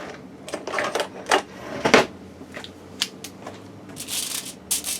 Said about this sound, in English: Let me grab a pair of tongs